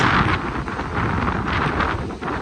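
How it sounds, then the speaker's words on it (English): Strong gusting wind on a street in Woodstock, Illinois buffets the microphone in loud, uneven bursts, with nothing else clearly audible. "And it is super windy."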